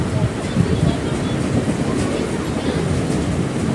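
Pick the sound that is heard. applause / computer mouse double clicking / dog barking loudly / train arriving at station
train arriving at station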